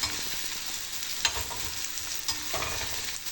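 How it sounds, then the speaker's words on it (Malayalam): Onion and tomato sautéing with mustard seeds, fenugreek and curry leaves for a coconut milk fish curry: a steady close sizzle with a few quick spoon scrapes, no voices. "അതൊക്കെ നല്ലോണം ഒന്ന് വഴന്ന് വരട്ടെ."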